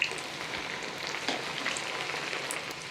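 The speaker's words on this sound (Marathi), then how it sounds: "आणि आता ही छान तळून घ्यायची." Chana dal frying in hot oil over a low flame, giving a steady, close crackling sizzle with small pops throughout and no voices.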